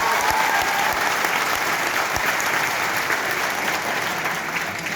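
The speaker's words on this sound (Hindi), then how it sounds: "एक बार मां हिंदी के लिए आप तालियां बजाएंगे।" Steady applause from an audience filling a large convention hall in Varanasi, dense and continuous for the whole stretch, fairly loud and even with no voices on top.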